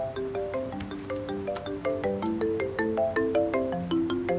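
A mobile phone ringtone plays a bright, repeating melodic pattern of quick tones for several seconds, clear and alone with no talking.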